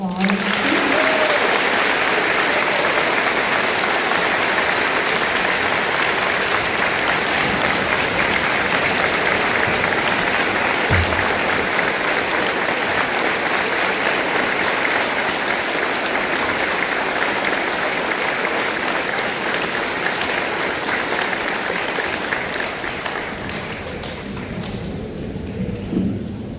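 A school assembly crowd gives a long round of applause at a Veterans Day ceremony, dense clapping echoing through a large hall with an occasional thud, gradually thinning and fading near the end.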